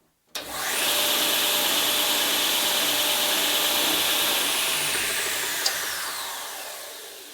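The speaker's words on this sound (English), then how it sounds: "this particular machine has an oscillating belt" An oscillating belt sander used for boat building starts up with a sharp onset and runs as a loud, steady whine and rush of air for several seconds. The tone drops as it begins to wind down near the end.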